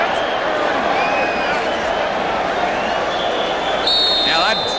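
A stadium crowd at the 1992 Freedom Bowl college football game stands and screams, a loud, continuous roar that fills the whole stretch beneath a commentator's voice.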